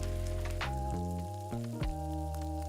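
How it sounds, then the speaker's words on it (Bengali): Drumstick flower pakoras fry in hot white oil with a steady, soft crackling sizzle and occasional brief pops, close and fairly quiet, with no voices. "সাদা তেল গরম হলে তার মধ্যে সেই ব্যাটারটা পকোড়ার আকারে দিয়ে দিতে হবে। এবার এটাকে লাল লাল করে ভেজে তুলে নিতে হবে।"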